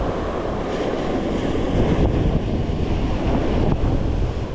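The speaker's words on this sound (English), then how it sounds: "the surf isn't as rough as I expected it to be considering the wind" Wind and surf at a New Jersey saltwater beach during late-summer fishing: a dense, continuous roar of waves with heavy wind buffeting the microphone throughout, loud and unbroken, with no voices.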